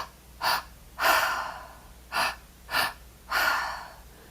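Deep breaths in a guided breathwork session, five distinct audible breaths drawn and released in an uneven rhythm, close and fairly quiet with no talking.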